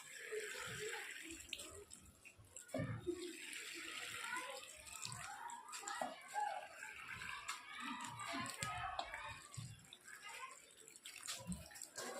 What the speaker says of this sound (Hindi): अब हम इन गमलों में पानी डाल देंगे